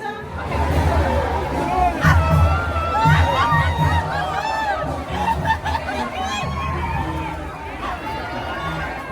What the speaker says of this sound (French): Juste à sortir de mon hôtel, instantanément, il y a une foule avec la musique